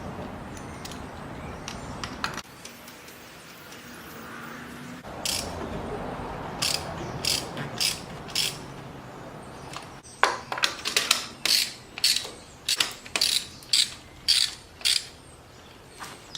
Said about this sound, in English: get them a little snug down with the ratchet